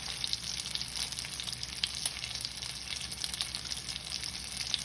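Steak frying in a pan of hot oil, giving a steady, close hiss of fine crackling and sizzle that holds at an even level throughout, with no voices.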